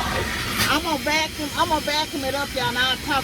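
A car wash vacuum hose sucks at a car's interior with a constant rushing hiss, and someone speaks over the noise throughout.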